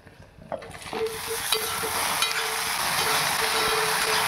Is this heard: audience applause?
no